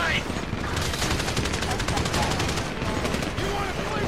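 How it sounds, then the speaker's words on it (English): Rapid automatic gunfire in the video game Grand Theft Auto 5 rattles in fast, evenly spaced bursts throughout, loud and sustained, with occasional voices mixed in. "You hear that gunfire?"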